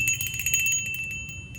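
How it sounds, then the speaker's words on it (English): A set of three small brass bells from a thrift haul rings with bright, sustained metallic tones that shimmer and decay over the short span, close and clear with no talking. "it's a brass bell"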